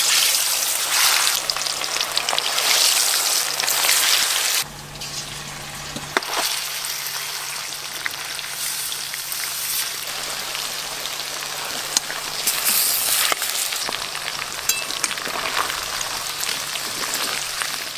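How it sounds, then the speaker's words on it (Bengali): Chicken pieces fry in hot oil for a biryani and chap dish, giving a continuous close sizzle and crackle that dips briefly midway, then swells again with scattered sharp pops. "এবার একটা একটা করে চিকেনের পিসগুলো দিয়ে খুব ভালো করে ভেজে নেব।"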